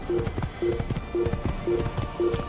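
Steady clip-clop of a horse's hooves as a rider travels in Assassin's Creed, an even galloping rhythm repeating throughout over a low game ambience with a faint voice.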